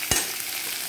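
Curry leaves hit a hot pan of oil with a sudden loud spit, then settle into a steady, bright frying sizzle for the rest of the brief moment.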